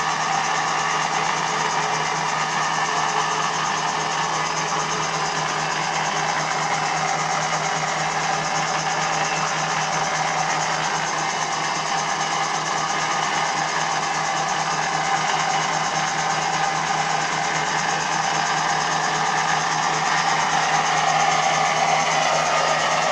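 A 1958 Meddings Pacera M4 drill press runs on its 550-watt, 415-volt three-phase motor fed by a Mitsubishi inverter, giving a steady, close hum with a faint high whine and no speech.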